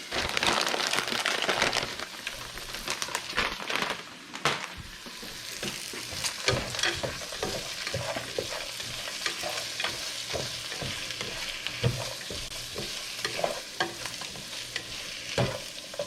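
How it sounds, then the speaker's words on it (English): Green peas stir-fry in a hot pan with Chinese sausage and bacon for fried rice, a loud steady sizzle broken by scraping, clattering spatula strokes. "So next we're gonna put in our green peas."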